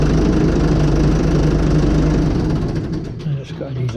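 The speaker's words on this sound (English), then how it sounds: "But on mine, I've got that lorry starter motor, so we'll start the tractor." A Fordson Major diesel tractor fitted with a lorry starter motor runs with a deep, knocking diesel idle, a loud steady rumble that eases and wavers slightly near the end.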